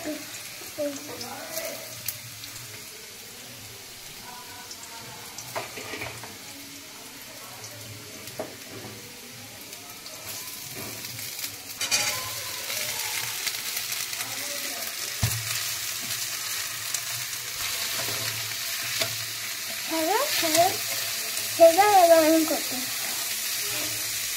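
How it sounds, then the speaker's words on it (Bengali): Wet potato slices hit hot oil in a home kitchen, starting as a quieter sizzle that grows into a louder, busier fry with stirring, while a person talks intermittently over it. "তেলটা একটু গরম হোক, তারপর আমরা এই ভেজা আলুটাকে দিয়ে দেবো।"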